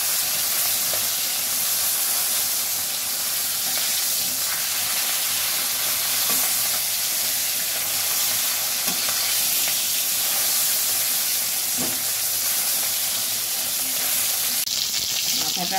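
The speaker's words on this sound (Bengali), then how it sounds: "মাছের মাথাটাকেও আমি উল্টে পাল্টে ভালো করে ভেজে নেব।" A katla fish head fries in hot oil in a pan, giving a loud continuous sizzle with faint scraping as it is turned and broken up, steady throughout with a brief clatter near the end.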